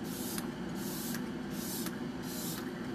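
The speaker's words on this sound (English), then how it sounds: "you guys know I always end with my setting spray." Makeup setting spray spritzed as a fine mist, four short hissing bursts at a steady rhythm, close and fairly loud over a constant low background hum.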